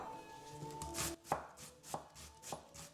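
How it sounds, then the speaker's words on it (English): Half an onion is chopped into smaller pieces with a knife on a cutting board: a string of close, crisp thuds with a slight pause midway. The cuts come in an uneven but steady rhythm, and no one speaks. "here I'm using half of the onion. We're going to chop this in smaller piece."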